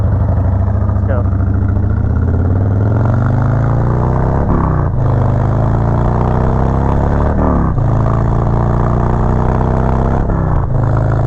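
A 2017 Harley-Davidson Road Glide with a Two Brothers Comp Shorty Turnout exhaust rumbles loudly up close, its deep V-twin burble rising and falling through several quick revs.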